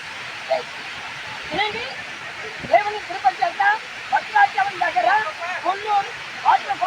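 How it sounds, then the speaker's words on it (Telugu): Bahubali waterfall pours in a steady broad rush of falling water, with people talking over it throughout. "ఇది బాహుబలి వాటర్ ఫాల్స్ అని కూడా అంటూ ఉన్నారు"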